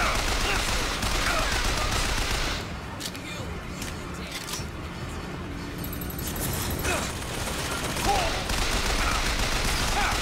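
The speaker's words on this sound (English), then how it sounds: "Machine gun time." Rapid machine gun fire in the video game Bioshock Infinite, a dense continuous rattle of shots with game effects, loud and close throughout, with a person talking over it.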